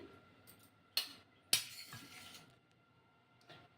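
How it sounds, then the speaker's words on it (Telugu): Cooled roasted ingredients for a bottle gourd and ridge gourd chutney go into a mixer jar, marked by a few sharp metallic clinks and scrapes of a spoon against the jar in a quiet kitchen. "ఇప్పుడు మిక్సీ గిన్నెలో వేసుకోవాలి"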